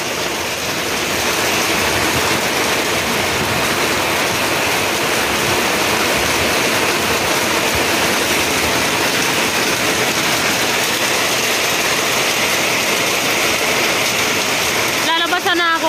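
Heavy rain pours in a steady, loud, dense roar that continues unbroken for about sixteen seconds, with a brief higher squeak right at the end.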